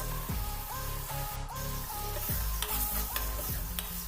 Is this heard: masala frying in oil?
yes